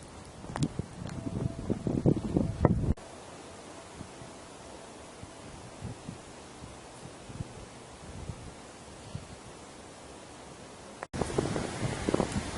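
Wind buffets the microphone with low, rumbling gusts throughout, with louder bursts of blustery noise near the start and end.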